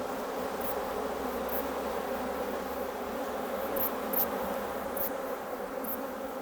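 Honeybees at a monastery apiary, a dense, continuous buzzing swarm hum that stays steady and fairly close, with a few faint higher clicks and no voices.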